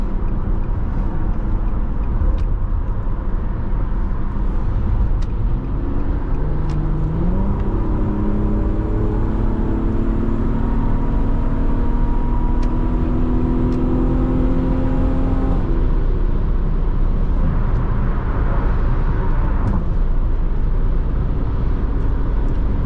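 A 2006 Infiniti FX35 SUV accelerating on the road from inside the cabin, its engine note rising in pitch through the gears over steady road and wind roar, loud and continuous with no talking.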